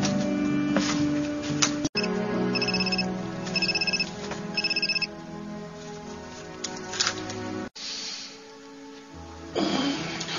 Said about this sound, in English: Who is that on the phone?